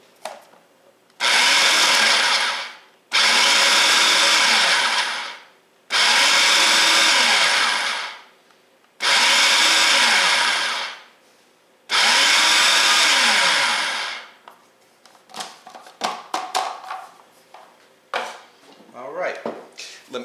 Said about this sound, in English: I'm going to pulse the machine a few times just to cut the butter into the flour